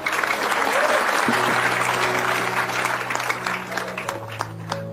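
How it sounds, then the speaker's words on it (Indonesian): Audience applause at an Indonesian religious talk, a steady dense wash of clapping across the whole clip with faint voices and a low tonal hum underneath, easing slightly toward the end. "Tepuk tangan sekali lagi ya."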